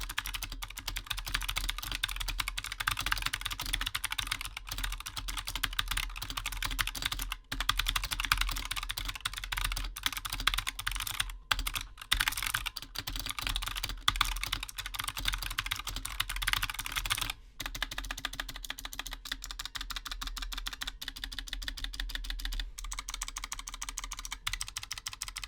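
Typing on a Razer Huntsman Mini 60% clicky keyboard: rapid, continuous sharp key clicks close up, an unbroken stream of keystrokes with a few brief pauses and no talking.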